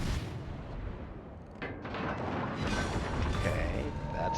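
Naval guns fire from the Royal Navy cruiser Edinburgh in a World of Warships battle, a heavy booming salvo over a constant low engine and sea rumble, with someone talking throughout.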